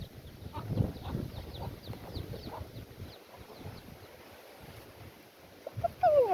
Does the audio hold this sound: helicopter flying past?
no